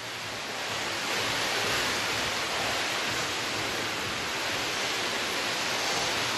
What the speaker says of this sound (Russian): Конечно, волны у нас тут прилив, все как положено.